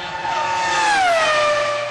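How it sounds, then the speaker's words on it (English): A Toyota TF108 Formula One car hurtling round a race circuit, its high-revving engine wailing loudly as it passes close, the pitch sliding downward as it sweeps by, with no talk. "Watching Panasonic Toyota Racing's TF108 hurtling round a circuit"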